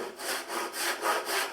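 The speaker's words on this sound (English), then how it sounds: "I can also cut a miter from the other side" A hand saw cuts a miter in wood held on a wooden bench hook, giving a steady rhythm of about six rasping back-and-forth strokes, close and clear with no voices.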